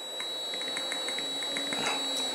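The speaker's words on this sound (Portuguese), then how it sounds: "esse motor tá capenga, né? Olha o barulho." A worn, noisy DC motor on a Monster Motor shield VNH2SP30 runs with a continuous whine and a rapid, irregular ticking rattle, fairly close and steady throughout.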